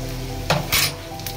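Bell pepper and carrot stirred in a frying pan, with a soft sizzle and two brief scraping strokes of a utensil against the pan, close and fairly quiet.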